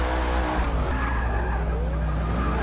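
Car tires squeal and skid continuously while a Hot Wheels coupe drifts sideways in Forza Motorsport 6, the screech sliding in pitch over a steady engine roar, loud and close with no talk.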